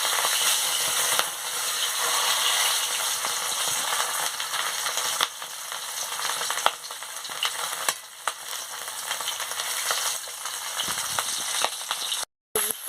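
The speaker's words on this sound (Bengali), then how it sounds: "আমি মাছের মাথাটা দিয়ে দিচ্ছি, দিয়ে ভালো করে ভেজে নিচ্ছি।" A fish head fries in hot oil with a loud, continuous crackling sizzle that barely changes, close by, with one brief drop-out near the end.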